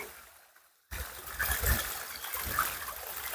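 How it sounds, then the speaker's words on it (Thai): Water from a waterfall stream in a rural Thai setting runs over slippery, algae-covered rocks, a steady close rush and splash that starts abruptly after a near-silent moment and continues loud throughout. "บรรยากาศทางน้ำตกไหลลงไปค่ะ"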